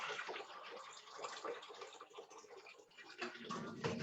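Water poured from a tea kettle into a pot during fruit preserving splashes in a fluctuating stream, close and moderately quiet, swelling and easing over a few seconds.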